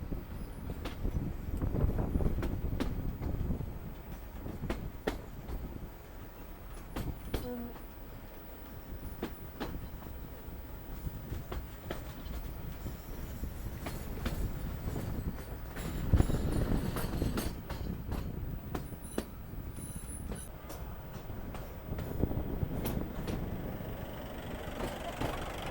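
A narrow gauge train rolls steadily along the Bilimora to Waghai line in India, its wheels clacking in a rhythmic clatter over the rails amid constant rumbling carriage noise.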